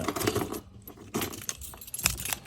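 A bunch of car keys for a C5 Corvette jangling and clinking close by in short bursts, metallic rattles with brief pauses, no talking.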